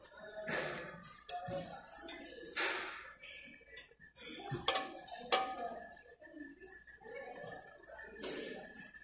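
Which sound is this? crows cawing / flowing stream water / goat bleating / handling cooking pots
handling cooking pots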